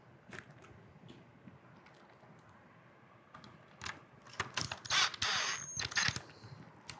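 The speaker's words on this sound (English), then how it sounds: "I'm gonna change the bit out on my driver and run these screws in real fast" A power driver runs Phillips head screws into a dormakaba Saffire lock housing, giving a few short whirring bursts and ratcheting buzzes near the end after quiet handling clicks.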